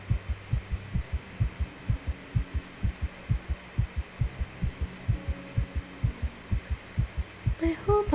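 Steady, pounding heartbeat thumps repeat in a quick, even rhythm, deep and muffled beneath a low hum, with a brief brighter tonal sound entering at the very end.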